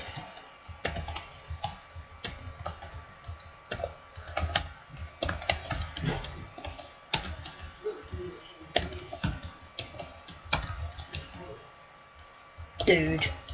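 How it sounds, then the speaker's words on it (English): Steady, close typing on a computer keyboard, with dense clusters of key clicks and short gaps, and talking partly overlapping the keystrokes. "I'm bad at typing."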